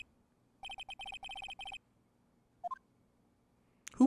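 In the Phoenix Wright: Ace Attorney game, a mobile phone gives a quick string of electronic trill pulses for about a second. A couple of short blips and a soft thump follow in near silence.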